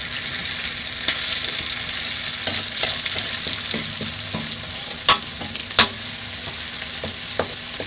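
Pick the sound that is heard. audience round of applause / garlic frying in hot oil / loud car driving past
garlic frying in hot oil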